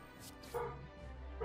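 A dog barks once, briefly and at moderate distance, in a quiet indoor room, with a second faint yip at the end and low background hum.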